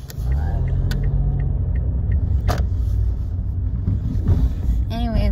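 Heavy car traffic rumbles low and constant from inside a moving car after work, a steady engine and road drone with a brief squeak near the end.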